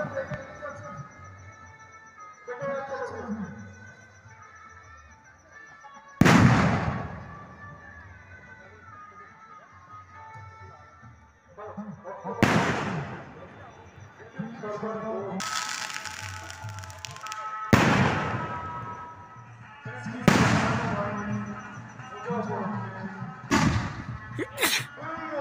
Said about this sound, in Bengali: এই যে বাজিগুলো যাচ্ছে এগুলোর নাম হলো 2 in 1। বুঝলে বন্ধুরা, দেখো কি সুন্দর পুরো উপরে গিয়ে ফাটছে